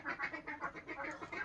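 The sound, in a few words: ducks quacking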